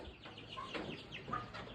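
Soft, quiet clucking from a frizzle hen, a few short calls spaced out over a faint background.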